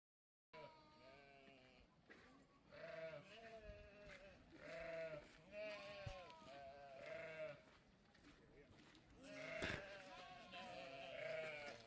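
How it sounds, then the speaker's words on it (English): A flock of sheep bleats repeatedly at feeding time, many overlapping calls rising and falling, fairly distant and soft, with some background rustling. "This was feeding time of sheep."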